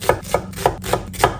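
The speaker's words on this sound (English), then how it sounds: "I am going to start with 4 medium-sized onions, and I'm just going to roughly chop them up" A knife roughly chops medium-sized onions on a cutting board, five evenly spaced, close, solid thuds in quick succession.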